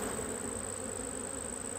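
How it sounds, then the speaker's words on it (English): Dense, steady buzzing of honey bees shaken from hive frames during a colony split, a continuous close swarm drone with a high whine running under it throughout. "Let's shake the bees down, one at a time, every frame."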